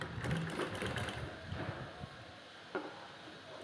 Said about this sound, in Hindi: एकदम सीधी सिलाई लेते जाएंगे इस तरह से